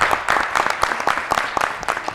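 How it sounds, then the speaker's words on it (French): Dense studio audience applause during a French-language TV show, rapid overlapping claps, loud and sustained throughout, with no voices. "On l'applaudit bien fort."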